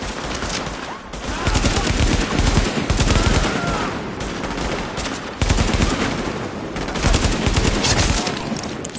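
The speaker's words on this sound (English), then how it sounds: "JTF are taking fire near the ODEA on West 29th." Sustained gunfire from The Division video game, a dense automatic-weapon firefight with rapid bursts and overlapping shots that keep going almost without pause.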